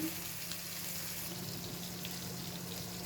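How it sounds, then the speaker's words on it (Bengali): Poa fish fry in hot oil in a wok, giving a steady, even sizzling hiss that holds at a constant level from start to finish with no breaks. "মাছগুলো তুলে দিয়ে দিলাম কড়াইতে"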